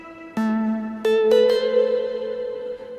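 A synth arpeggio in a hardstyle track plays a few sparse plucked notes that ring out and sustain, washed in reverb and delay so each hit smears into echoing tails; no voices.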